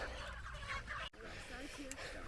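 Chickens cluck and murmur in a crowded, continuous din as the flock is loaded into crates on a trailer at a farm, with a brief dropout partway through before the flock noise resumes.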